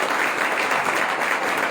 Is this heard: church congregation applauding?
yes